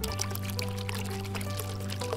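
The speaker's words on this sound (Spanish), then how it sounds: "Cojo la olla y echo agua." Water is poured into a toy pot in a continuous, close splash that lasts a couple of seconds over a steady background hum.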